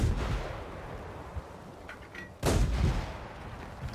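A tank cannon firing in World of Tanks: a sharp, loud gunshot boom at mid-clip, decaying into rumble, with quieter battle ambience and a few faint distant reports around it.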